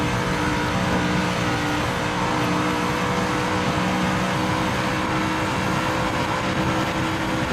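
A race car engine in a racing video game held hard at the redline, a loud, steady, unbroken roar with no letup throughout.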